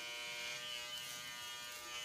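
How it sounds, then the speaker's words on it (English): A Norelco men's electric face shaver buzzes steadily and close up, a dense continuous hum with no talking over it. "My Noreco men's shaver you use for your face, that's what I'm talking about."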